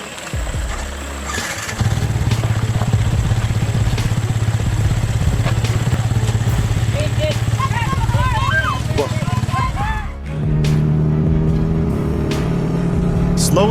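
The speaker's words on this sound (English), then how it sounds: "The deep growl of the engine echoed off the cliffs" A heavy logging truck loaded with sturdy logs grinds up a winding mountain pass, its deep engine growl loud and close, droning steadily with a brief dip near the end before roaring on, with voices briefly audible over it.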